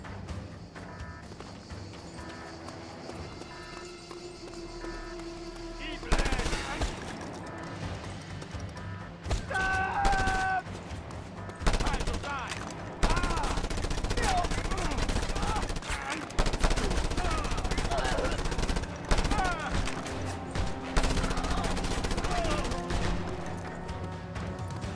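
Mounted machine gun fire in the Just Cause 2 video game, rapid continuous bursts of gunshots that dominate throughout, with brief pauses and crashing impacts mixed in.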